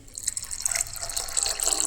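Water trickles and splashes into a bowl of washed lentils being soaked for kosambari salad, a short, fairly quiet pour with bright dripping detail and no talking.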